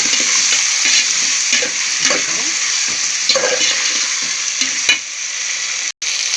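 Vegetable biryani curry frying in a pan as it is stirred, giving a continuous loud sizzle with scraping strokes of the spoon up close, then a short break near the end.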